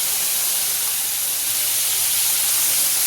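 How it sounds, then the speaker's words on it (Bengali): Tomato paste hits hot oil in a wok already seasoned with bay leaf, dried red chilli, fennel and cumin, producing a loud, steady, close hiss that never lets up, with no voices. "দিয়ে দিচ্ছি টমেটো পেস্ট।"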